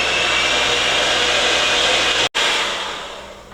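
An electric mixer whirs loud and steady, close up, as it beats shortbread dough with lemon juice, cutting out for an instant before resuming.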